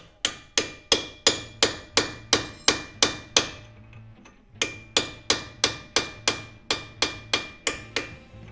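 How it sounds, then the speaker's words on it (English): Hammer blows on a chisel driving against a stuck nut, struck in a steady rapid series of sharp metallic clanks, about twenty hits with a brief pause midway, close and loud with no talk. "And we're gonna use a chisel"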